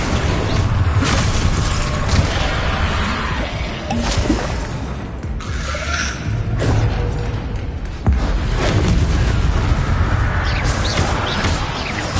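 Confringo spell blasts in a video game crash and boom through dense, loud game noise, with several sharp impacts landing a few seconds apart over a constant rumbling wash.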